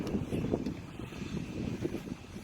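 Losi DB Pro RC truck's electric motor held at half throttle, a steady mid-level whir with gritty texture and some wind buffeting, continuous throughout.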